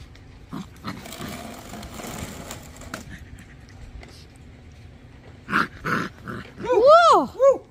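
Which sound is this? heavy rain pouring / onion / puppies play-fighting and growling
puppies play-fighting and growling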